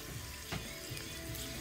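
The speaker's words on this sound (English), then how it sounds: "I think I was washing my hands here" Water runs steadily from a tap while hands are washed under it, a constant close hiss with small splashes and no talk.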